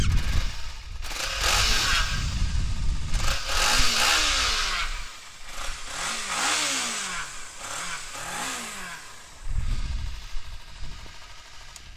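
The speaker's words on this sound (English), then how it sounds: "I'll start the bike up for you guys, see if you guys like the way it sounds." A Kawasaki Ninja 300R track bike engine revs repeatedly nearby with its stock exhaust, climbing and dropping in pitch with each throttle blip, rumbling at idle between; a brief word is spoken.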